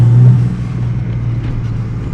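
An engine in a Ford EF XR6 settles from a steady tone that trails off slowly, the rev hang heard as a lingering drone. Loud and close, with no voices.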